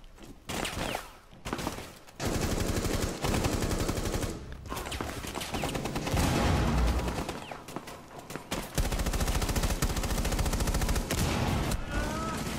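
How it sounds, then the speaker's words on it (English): Gunfire in the video game Rainbow Six Siege: loud bursts of rapid automatic fire and single shots come in dense, sustained volleys, broken by a few short pauses. "we're getting shot at"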